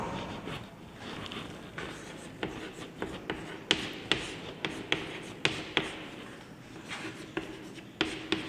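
Chalk or marker taps and scratches on a board while a definition is written, quiet irregular strokes with sharper clicks spaced through the passage in a room.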